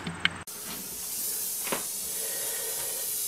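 An oxygen-acetylene heat wrench torch lights with a sharp pop, then settles into a steady, close, loud hiss that continues unbroken.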